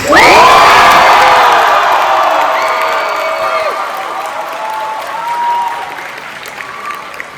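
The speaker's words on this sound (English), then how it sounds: "Grads, give us your loudest cheer." Grade 12 graduating students at a Pinetree Secondary ceremony erupt in a loud burst of cheering, whooping and applause. The noise is strongest at the start and gradually tapers off over several seconds.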